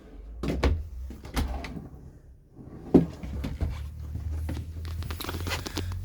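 Drawers in a 2021 Grand Design Imagine 3110BH travel-trailer RV slide and bump shut in a series of close wooden knocks and scrapes, with a sharp thud partway through and rattling afterward.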